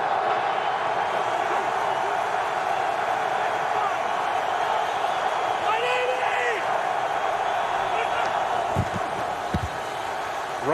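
Steady stadium crowd roar at an NFL football game between the Cowboys and Giants, a dense continuous wash of distant voices throughout, with brief sharp thumps near the end.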